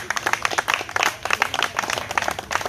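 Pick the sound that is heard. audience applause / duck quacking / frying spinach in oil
audience applause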